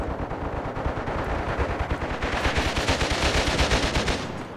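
A machine gun chatters in Graviteam Tactics Mius Front, firing rapid, steady bursts of clattering shots that run continuously and loudly for several seconds.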